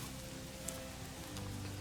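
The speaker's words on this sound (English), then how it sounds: "because the rain is just unrelenting" Heavy rain falling steadily on a potato garden, making a constant broadband hiss with a few faint drop taps and no talking.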